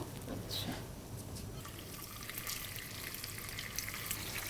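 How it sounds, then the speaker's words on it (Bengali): Fish fries lightly in a small amount of oil, giving a faint, steady bubbling hiss with soft watery crackles throughout, heard up close and alone. "আমি মাছটা একটু হালকা ভেজে দিব"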